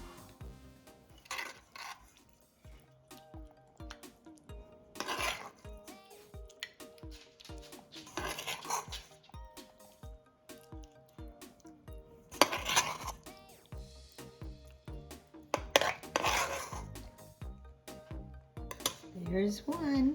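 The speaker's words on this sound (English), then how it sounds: "The next step is to fill the clam shells." Utensils clink and scrape against clam shells and a dish while stuffing is pressed in, a busy run of small metallic ticks and knocks with louder bursts of handling, close up and with no talk.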